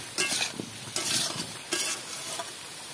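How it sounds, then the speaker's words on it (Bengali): Khichdi stirred in a pot just after salt goes in, three bursts of scraping spoon strokes over a low sizzle, close by and with no talking. "লবণটা দিয়েও একটু নাড়াচাড়া করে নেব।"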